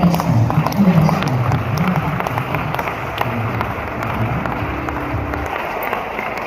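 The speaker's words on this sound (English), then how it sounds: "a big round of applause and a standing ovation" A large audience at a mentorship master class gives a speaker a standing ovation. Dense, sustained applause fills the room at steady loudness, with crowd noise mixed in throughout.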